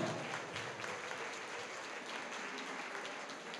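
A wedding hall crowd at a Turkish wedding claps as a guest is invited to the stage, a dense, even wash of applause held at a steady level for the whole stretch.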